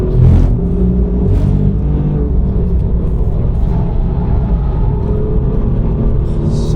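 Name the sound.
manual Alfa Romeo Giulia Quadrifoglio engine driven in third gear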